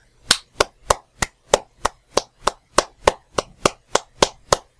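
Slicing a mushroom on a plastic mandoline slicer, a run of about fifteen sharp, close clacking strokes in a steady quick rhythm, loud and alone without talking.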